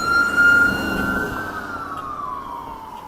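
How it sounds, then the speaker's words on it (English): An ambulance siren wails loudly as it passes on a downtown Regina street, its pitch sliding downward as it moves away. "Yeah, it's an ambulance."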